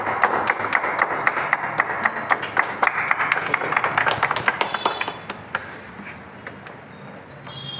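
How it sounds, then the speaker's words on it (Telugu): A crowd claps at the opening of a billiards cafe in Guntur, a dense patter of applause close by that thins out and fades toward the end. "గట్టిగా క్లాప్స్ గట్టిగా."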